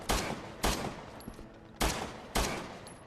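Four separate, evenly spaced gunshots from Piers's weapons in Resident Evil 6, each a loud sharp crack with a short decaying tail, alone with no voices.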